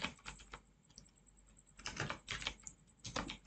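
Code being typed on a computer keyboard, quiet close clicking keystrokes in quick bursts separated by brief pauses.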